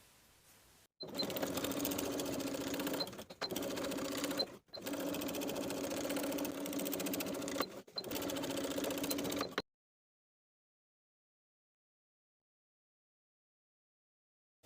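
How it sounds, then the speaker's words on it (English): Sewing machine stitching straight across a blouse neckline binding, a steady whirring hum in four bursts with brief stops between, close and alone, then silence. "We're going to sew straight across the neckline from center front to center front along the opposite folded edge of the binding."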